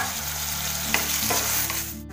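Chilli and onion fry in oil in a wok, giving a constant, moderate sizzle with a low background hum and one brief clink partway through.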